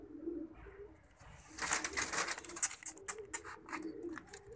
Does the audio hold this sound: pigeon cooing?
yes